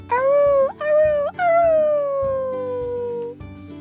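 A voice imitates a dog howling, a loud drawn-out "aroo" rising and falling in three linked calls, the last one stretched and sliding downward, over soft background music.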